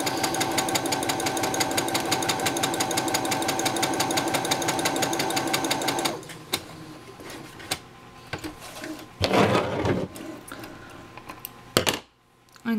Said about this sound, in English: I'm gonna sew till the end of my garment.